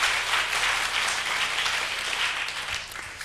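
A church congregation breaking into applause during a service, a dense, steady wash of many hands clapping together at moderate loudness, easing off slightly toward the end.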